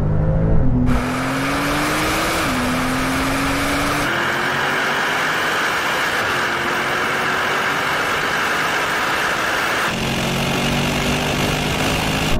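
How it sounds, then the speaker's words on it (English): Brabus cars revving hard through a rolling race from 80 km/h in third gear, engines roaring loud and steady with audible gear shifts and rising pitch sweeps, no talking. "let's do a rolling race from 80 kilometers an hour in third"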